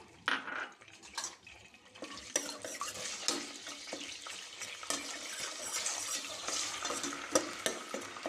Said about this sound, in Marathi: तेल हे गरम झालेलं आहे आपण इथे आता दोन तेजपान टाकूया आणि आपली ही जी कांद्याची पेस्ट होती ती आपण टाकूया